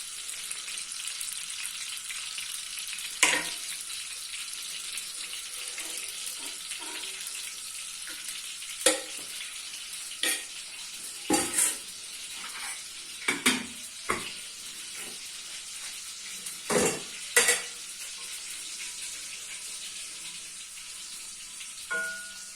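Desi ghee heats in a pan for halwa with a soft steady sizzling hiss, broken by a handful of brief louder clinks and scrapes.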